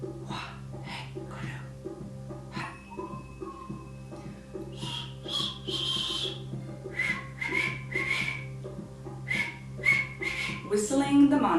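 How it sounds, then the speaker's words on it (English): A person whistles a slow, repeating mantra during Kundalini yoga, with breathy bursts between notes and a quiet sustained tone underneath. "After whispering comes whistling."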